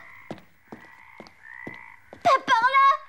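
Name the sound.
frog croaking in animated series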